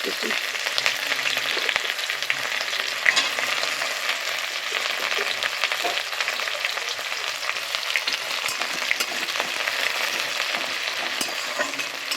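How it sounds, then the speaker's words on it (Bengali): Onions and crushed whole garam masala fry in oil for a spicy chicken feet curry, giving a steady, close crackling sizzle that runs unbroken throughout with faint stirring now and then. "এটাকে এখন একটু লাল লাল করে সুন্দর করে ভেজে নেব"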